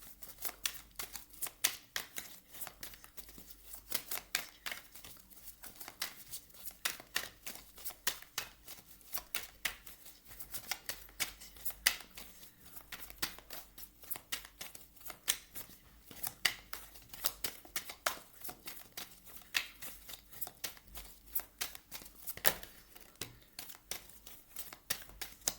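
Tarot cards are shuffled continuously at close range, a dense, papery patter of riffling and flicking that carries on with little pause.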